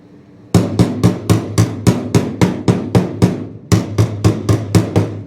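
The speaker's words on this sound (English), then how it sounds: "Body hammering." Rapid, evenly spaced metallic hammer blows on a car body panel ring out close up, a long run of strikes with a brief pause partway through.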